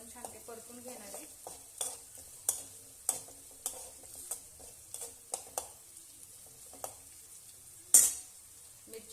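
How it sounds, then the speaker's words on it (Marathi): Potato bhaji with green chillies sizzling in oil, a soft continuous fry with repeated sharp clinks and scrapes of a spoon stirring against the pan, one louder knock near the end. "हे बघा सगळीकडनं तेल सुटलेलं आहे. अजून 1-2 मिनिटं आपण छान ते परतून घेणार आहे."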